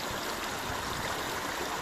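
Steady rushing of a glacier-fed mountain stream at the Arashan source, water flowing continuously and fairly close, with no voices.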